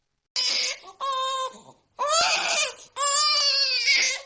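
A baby in a cartoon story cries in four separate wailing bursts with short pauses between them, close and fairly loud.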